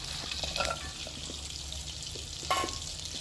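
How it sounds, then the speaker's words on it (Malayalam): Chopped garlic (four to five cloves) dropped into melted butter in a pan for broccoli soup, giving a steady low sizzle and frying hiss with a couple of brief clinks and stirring sounds, fairly quiet and without talk. "ബട്ടർ ഉരുകി തുടങ്ങി. ഇനി ഇതിലേക്ക് നമുക്ക് ഒരു 4-5 അല്ലി വെളുത്തുള്ളി കട്ട് ചെയ്ത് വച്ചിട്ടുണ്ട്,"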